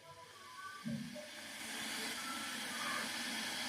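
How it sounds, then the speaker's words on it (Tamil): A Prestige 1.8 L electric kettle heats water. After a brief click a soft, low hiss rises and then holds steady, faint and close, with no talk. "கொஞ்ச நேரத்தில் பார்த்தீங்கன்னா அந்த சூடாகிற சவுண்டு வரும்."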